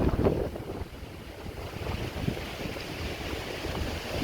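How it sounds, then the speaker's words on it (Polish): Wind blowing outdoors during bodywork on a Renault Clio 2 rocker panel, a gusty, rumbling buffeting across the microphone that stays fairly faint and steady throughout with no voices. "bo wiatr wieje"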